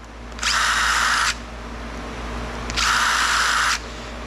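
A power drill runs in two bursts of about a second each, backing screws out of a copper electrical ballast being scrapped, with a steady whine, a pause and low room noise between bursts.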